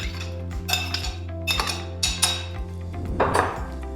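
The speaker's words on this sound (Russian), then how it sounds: "в сотейник я кладу вишню без косточки" Pitted cherries dropped into a saucepan, giving a series of clinking, knocking impacts roughly every half second over a steady low hum, with a brief rustling scrape near the end.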